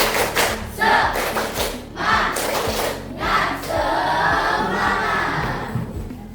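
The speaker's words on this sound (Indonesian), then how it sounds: "mari kita bersama-sama tepuk semangat" Classroom of students performing the 'tepuk semangat' clapping chant, with rhythmic bursts of group claps and shouted chant voices repeating in a lively pattern.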